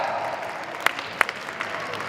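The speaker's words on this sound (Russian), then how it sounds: "Спасибо вам за эти теплые аплодисменты" A festive-evening audience at a meeting of the Chuvash Republic's head with culture workers gives steady, warm applause, a dense wash of clapping punctuated by a couple of sharper, louder claps.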